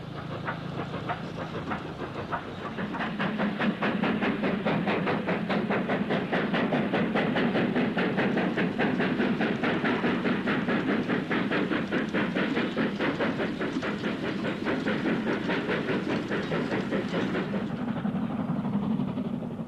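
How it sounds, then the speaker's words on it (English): A Pennine diesel train passes on the fast passenger line near Golcar, making a loud, steady engine roar with rapid rhythmic wheel clatter throughout that eases off near the end. "Penine diesel passes on the fast passenger line, and another going west approaches Golka."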